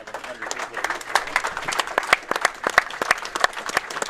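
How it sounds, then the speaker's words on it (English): Crowd applause at a bowling match finals, with scattered sharp claps rising and falling over a steady murmur of spectators, fairly close and continuous throughout. "You can hear the applause in the crowd"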